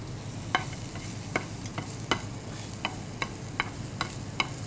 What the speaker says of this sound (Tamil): ஸோ இந்த இஞ்சியும் பூண்டும் வதங்கி வர சமயத்தில்